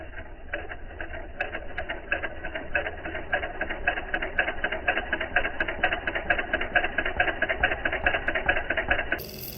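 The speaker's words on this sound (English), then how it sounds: "Aren't electric motors amazing?" A small electric motor runs steadily and fairly loud, with a fast, even clattering rhythm throughout that cuts off abruptly at the end.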